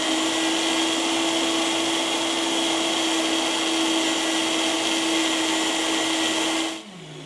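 A blender runs at full speed grinding raw green soup ingredients, a loud steady whine with a constant pitch that drops abruptly as it slows near the end.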